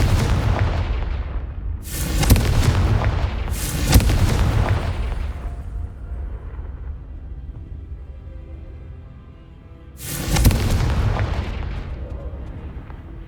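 Confringo fire-blast spell explosions in the Hogwarts Legacy video game: three loud booming blasts, two close together early and one later, each decaying into a rumbling tail, with no talk.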